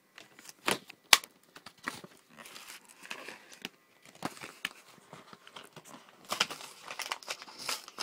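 Crinkly plastic packaging of camping glow sticks being cut and torn open, with sharp snips and rustling bursts spread irregularly through the moment, close and moderately loud.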